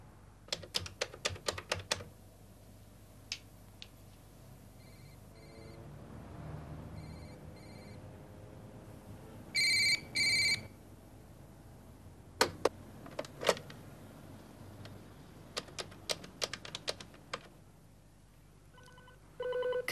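A telephone rings unanswered in a deserted office building at night, its bursts of ringing spaced apart and clear over quiet room tone, with scattered clicks and knocks in between.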